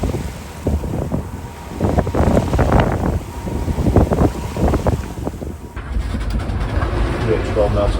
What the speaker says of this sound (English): It appears the winds have picked back up, but the swell is smaller.